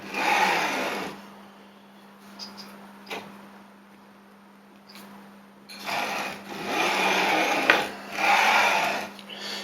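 Stepper motor and idler on a K8200 3D printer retrofit, running smoothly: a steady mechanical whir with a constant hum, in two bursts separated by a quieter stretch with a few light ticks.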